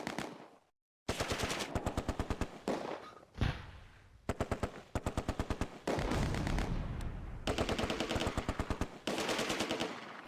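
Heavy machine gun fire from the Close Combat: A Bridge Too Far war game, fought in Polish farmland during Operation Market Garden: loud rapid bursts of rattling shots repeat again and again, broken by short pauses and a dull thump, with no talking.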